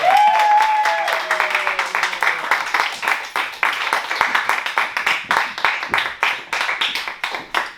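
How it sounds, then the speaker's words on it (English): A comedy club crowd at an improvised stand-up show breaks into sustained, dense applause that stays loud and close for several seconds, with an announcer's voice briefly heard at the start. "start clapping now for Tristan Miller"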